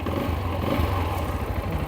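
Lifan KPS 200 fuel-injected motorcycle engine idling with a small added resonator, a steady low rumbling throb that holds at an even level throughout with no voices.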